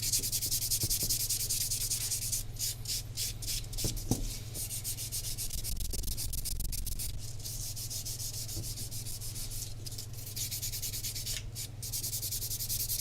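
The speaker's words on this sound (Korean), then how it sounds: "이제 샌딩 할게요." Polygel nails being sanded with a nail file, a quiet steady scratchy rubbing in quick repeated strokes, close and continuous, with no talking.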